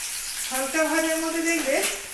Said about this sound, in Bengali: পেঁয়াজগুলো আমি সব খুলে খুলে দিচ্ছি তাহলে কি হবে ভাজাটাও তাড়াতাড়ি হবে